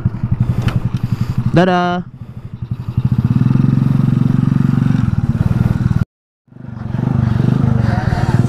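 A small motorcycle ridden on a test ride, its engine droning steadily and loudly up close with a rev swell, a brief cutout, then continuing; a voice speaks briefly near the start.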